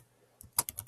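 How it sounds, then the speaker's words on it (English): Brief burst of typing on a computer keyboard, a few quick, faint key clicks close up after a moment of near silence. "we're just going to type in the new text we want that to equal"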